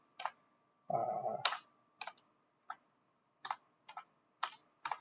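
Bursts of clicky typing on a computer keyboard into a search field of a software package, short isolated keystroke clusters spread across the clip with one brief louder noisy patch near the start, no voices.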